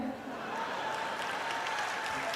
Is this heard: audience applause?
yes